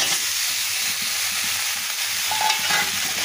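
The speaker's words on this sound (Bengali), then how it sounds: "তাই কচুর সঙ্গে একসঙ্গে এভাবে কষিয়ে নেবো।" Taro and shrimp stir-frying together in a pan for a Bengali curry, a dense, loud sizzle with steady stirring scrapes throughout, close up and with no voices.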